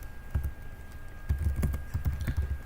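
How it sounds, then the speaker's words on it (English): Computer keys are tapped in short irregular clusters as a login and password are typed, distinct clicks and thumps close by with brief pauses between bursts. "Just type in your login and password."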